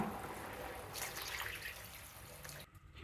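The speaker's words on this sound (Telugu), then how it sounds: "కొద్దిగా వాటర్ కూడా యాడ్ చేసుకుందాం" A little water added to a tamarind-based egg and raw mango curry in the pan gives a soft trickling, dripping pour, close and fairly quiet, that fades out near the end.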